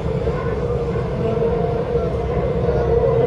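Steady rumble and rattle inside a moving train heading toward the Red Fort area, a continuous low drone with rhythmic clatter holding constant throughout, with no clear voices.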